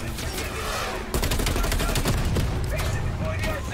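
Rapid bursts of gunfire from the Call of Duty Cold War campaign crackle in quick succession, a dense fusillade of sharp shots filling the short stretch, loud and close with no clear pause.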